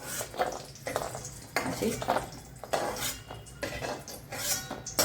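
Metal spoon scraping and stirring cashews roasting in ghee in a pan while making fenugreek gum laddoos, steady clinks and scrapes at moderate distance, with a brief spoken word.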